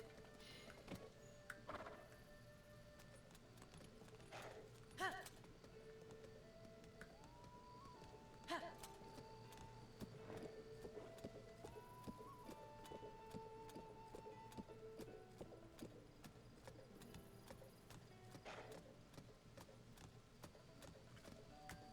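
Soft clip-clop of horse hooves in The Legend of Zelda: Tears of the Kingdom, irregular clopping steps with occasional faint whinnies amid quiet game ambience, fairly low in level throughout.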